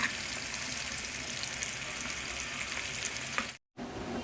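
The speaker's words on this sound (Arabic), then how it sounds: "احنا كده هنحمر البصل لحد ما يوصل لدرجه البصل" Onions fry in hot oil with a dense, continuous crackling sizzle up close, broken only by a brief gap near the end.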